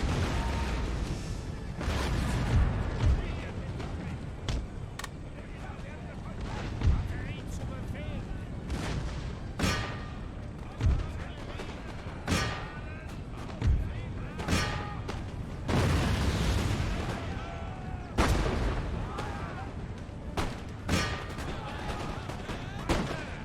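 Cannon firing canister shot at close range in Empire: Total War, a series of sharp booming blasts with rattling gunfire spread through the battle, mixed with ongoing voice chatter.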